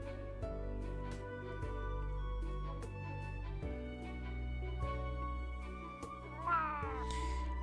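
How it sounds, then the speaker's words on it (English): A cat meows a few times over a continuous musical background, with a rising wavering cry near the end, fairly faint and with no voices. "Smithy, keep your meows down."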